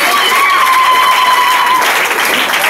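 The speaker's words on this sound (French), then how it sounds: "Je vous prie de vous asseoir en applaudissant." Wedding guests applaud together in a steady, dense wash of clapping that holds at an even, loud level throughout, with a faint sustained tone running beneath it for much of the time.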